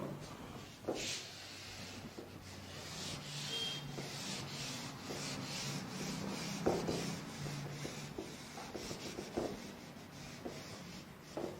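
Someone wipes writing off a board with a steady, soft rubbing and scrubbing, faint and close, with a few brief taps and no talking.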